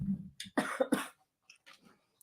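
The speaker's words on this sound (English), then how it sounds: "this dry cough is really annoying" A few short, dry coughs burst out close by, followed by faint throat noises and quiet.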